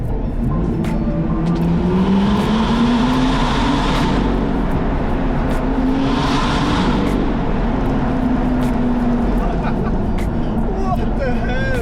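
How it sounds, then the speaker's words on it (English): A loud car with an exhaust leak drones steadily at high revs on a twisty Alpine road, its engine pitch rising and falling with two brief surges in the upper range, while faint voices murmur underneath. "Maybe I have a leak in the exhaust somewhere underneath the car."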